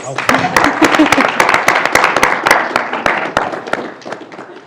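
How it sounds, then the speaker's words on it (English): Applause from a panel audience at a globally focused event greeting a government intelligence official, a dense run of claps, loud and near, with a voice briefly audible underneath. "Round of applause, please"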